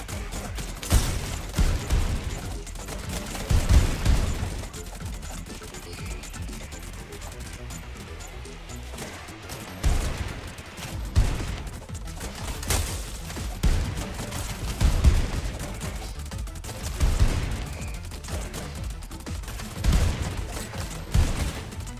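Repeated gunfire bursts from shots in the game ENA Dream BBQ, sounding as loud thumping volleys spread across the stretch, mixed with game effects and a player talking over them.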